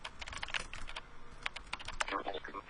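Quick, light clicking of a computer keyboard being typed on in a room, irregular taps in short runs at low volume with faint talk underneath.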